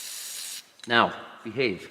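A quick burst of WD-40 penetrating lubricant sprayed onto threads at a farm, a close, half-second hiss, followed by someone speaking briefly.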